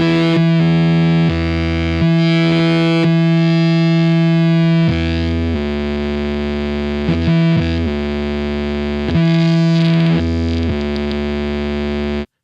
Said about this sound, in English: There's the fuzzed note, which is coming from my guitar